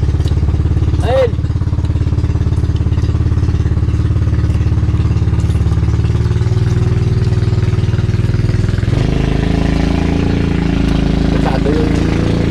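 Boat engine running steadily near a swollen river after a flood during a fishing trip, a loud continuous mid-pitched drone with a shift in tone partway through, while people talk over it.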